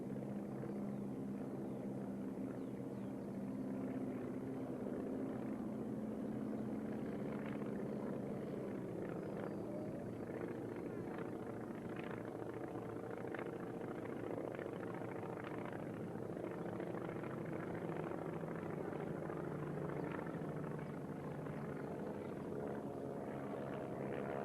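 A yellow Ryan trainer with braced wings and an exposed-cylinder radial engine, in US Army Air Corps paint, flies at an Australian air show, its steady propeller drone held at a moderate distance throughout.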